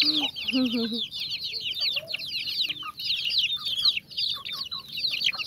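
Chickens cluck and chatter close by in a steady, busy stream of short calls, with a brief human voice near the start.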